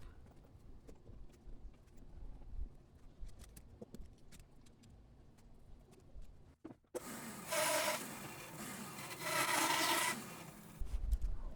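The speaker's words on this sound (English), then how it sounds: "cut a little notch in the mold so I could get a good grip on that clamp" Someone cuts a small notch into a wooden guitar mold by hand, with quiet scraping at first, then a loud, close rasping stroke in two long bursts.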